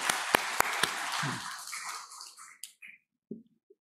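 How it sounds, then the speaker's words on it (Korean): Church congregation at a Korean Sunday worship service bursting into applause, a dense wash of clapping with a few sharp claps up front that fades out over about two and a half seconds, followed by a few faint isolated knocks. "하나님께 영광의 박수 올려드립니다"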